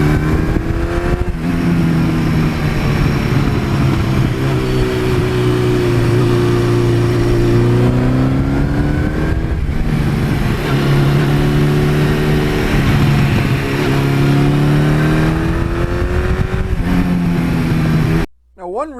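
Engine of a 1982 Suzuki GS1100E motorcycle, a bike known for burnouts, revving loud and close, its pitch rising and falling through repeated throttle blips over a steady rumbling idle before it cuts out abruptly at the end.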